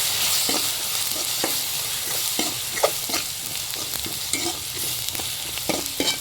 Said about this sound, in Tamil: இதையுமே நல்லா வந்து கிண்டிக்கணும்